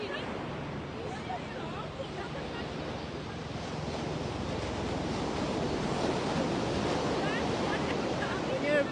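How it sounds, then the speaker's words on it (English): Ocean waves break near the shore in a steady, loud roar of surf, with gusting wind buffeting the microphone throughout and growing slightly stronger toward the end. "When you're by the ocean, you can't really hear properly because the waves are very strong."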